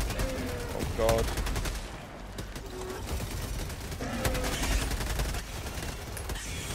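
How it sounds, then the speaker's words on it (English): Rapid bursts of gunfire from shooting bugs in the video game Helldivers 2, with dense repeated shots, some sharp cracks and a roughly even loudness throughout, mixed with other game effects. "It is quite satisfying shooting these bugs, I must say."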